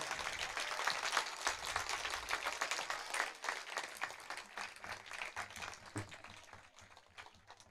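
Steady applause from a crowd at a school annual results event, a dense patter of many hands clapping that gradually thins and fades toward the end.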